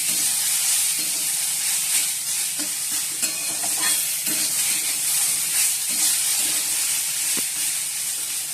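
Onions fry in a hot pan for chira pulao, a loud steady sizzle broken by scraping stirs and small clicks of a spatula, heard up close with no talking.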